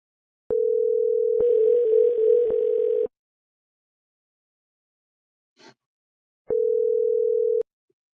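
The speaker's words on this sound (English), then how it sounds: "I don't know what's going on with this number, but it's dialing and shutting off on me" A telephone line gives a steady dial tone that breaks off, a faint click sounding in the silence, then the same tone returns briefly and cuts out again, each time the call failing to go through.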